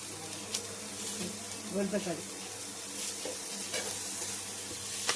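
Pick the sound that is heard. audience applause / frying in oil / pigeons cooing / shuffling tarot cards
frying in oil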